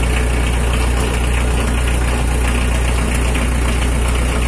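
A Mitsubishi L300 runs steadily while its rear wheel bearing and differential are checked for a rumbling noise. The loud, low, continuous engine drone stays close and even with no talk.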